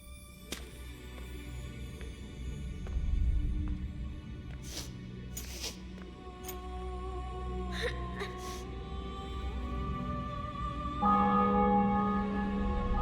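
Bells ring out in the video game The Witcher 2: Assassins of Kings after a city and fortress are taken, sustained tones building over a low ambient rumble and growing clearer toward the end.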